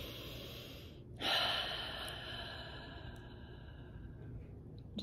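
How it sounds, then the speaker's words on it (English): A deep breath during an EFT tapping session for processing worry: a sharp, close inhale partway through, followed by a long audible exhale that fades, with no talking. "You can either breathe like that"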